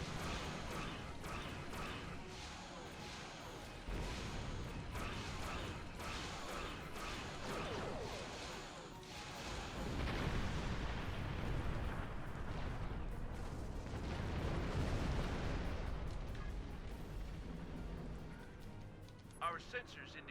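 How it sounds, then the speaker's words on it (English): Torpedoes launching and exploding in a Star Trek Online space battle, heavy booming blasts and whooshes building to a loud sustained rumble, with voices over the action. "Fire my torpedoes!"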